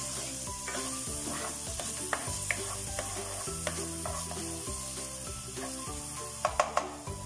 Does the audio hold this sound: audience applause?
no